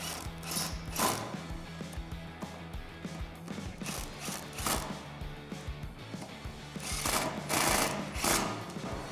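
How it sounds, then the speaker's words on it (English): Roof rack button head bolts on a Jeep Wrangler JL 4-door being tightened with a 5mm Allen socket, giving bursts of rapid mechanical clicking and clattering with short pauses between. "We can tighten them down with the same 5mm Allen socket."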